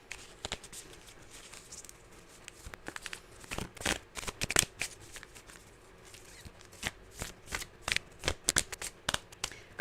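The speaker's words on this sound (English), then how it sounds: "Y'all just watch me shuffle." A deck of tarot-style cards is shuffled by hand close up, quiet riffling patter broken by irregular sharp snaps and flutters of the cards, with no talking.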